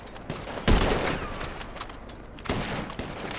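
Sniper rifle fire in GTA 5 during a runners-versus-snipers race: one sharp, loud shot cracks early, followed by a few lighter reports and a later strong shot against a busy game backdrop.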